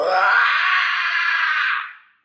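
A single voice imitates a creature like a crocodile crossed with a basilisk, producing one loud, sustained guttural growl-moan of about two seconds that fades out at the end, with no talk over it.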